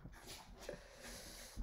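A dog whimpers faintly indoors, a brief high whine amid soft snorts and breathing, quiet and close with no talk.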